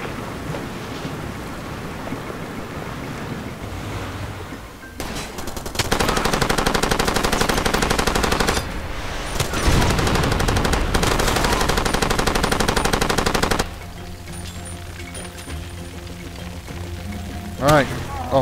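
Automatic gunfire bursts loudly through the Far Cry 2 game world in two long sustained stretches, framed by quieter ambient stretches and a voice talking.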